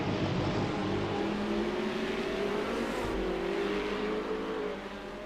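Race car engines in a sim racing league round at Calder Park, a loud, sustained engine drone with rising and falling pitch as cars run close together, dropping slightly in level near the end, no talk.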